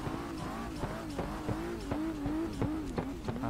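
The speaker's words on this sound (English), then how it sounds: "Can you hear me while revving this car?" A car engine revs in the Assetto Corsa racing game, played with a Logitech wheel on a mountain drift road, its tone rising and falling steadily and loudly with rapid rhythmic clicks beneath it.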